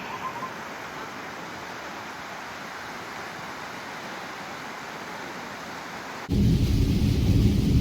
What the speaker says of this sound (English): I think it's raining again.